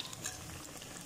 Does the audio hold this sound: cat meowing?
no